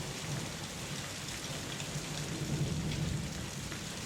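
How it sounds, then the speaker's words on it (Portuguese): Heavy rain pours steadily onto a zinc roof, a dense continuous hiss with a low rumble of thunder rolling underneath throughout. "A chuva batia no teto de zinco do alojamento como 1000 dedos ossudos tentando entrar."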